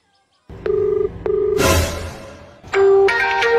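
A phone on loudspeaker gives two electronic dial beeps, then a burst of static, then a louder ringback tone, all close and clear.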